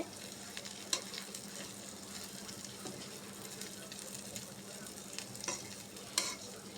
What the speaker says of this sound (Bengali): এই জন্য ঘন ঘন নাড়া দিয়ে দিয়ে এই শাকটা রান্না করছি।